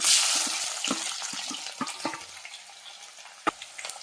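Onion drops into a hot pan already holding dried red chillies and garlic, bursting into a loud hiss that settles into a steady sizzle, punctuated by soft scrapes and taps of stirring.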